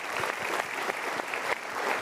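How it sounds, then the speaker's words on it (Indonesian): Strong, continuous applause from a studio audience at a talk show on relationships and love, dense clapping that stays loud and even across the short stretch. "Super, kita berikan tepuk tangan"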